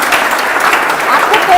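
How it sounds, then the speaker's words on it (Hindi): Loud applause from a large audience, a dense, steady wash of many hands clapping that holds for the whole moment, with a voice faintly heard alongside. "जैसे इतने लोग तालियां बजा रहे हैं"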